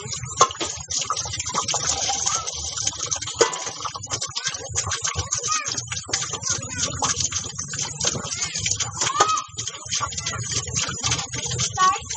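Water runs and splashes into a container while dishes are being washed, an uneven, close gushing and trickling mixed with small clicks and knocks, steady throughout.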